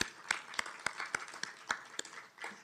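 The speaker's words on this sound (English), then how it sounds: "So I give him a hand of applause." Scattered audience clapping at a Detroit city announcement event, about ten distinct, fairly faint claps in a loose rhythm over a quiet room.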